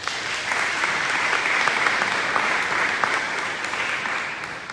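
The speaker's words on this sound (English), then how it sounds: "Again, a round of applause for HR." An audience at a school district breakfast event claps steadily and loudly throughout, a dense continuous wash of applause with no break.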